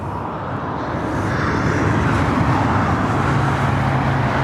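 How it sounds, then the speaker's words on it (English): An Aeromexico Dreamliner airliner takes off on the south side of LAX, a continuous rumbling jet roar building gradually in loudness and heard at moderate distance. "As Aero Mexico Dreamliner taking off there on the south side"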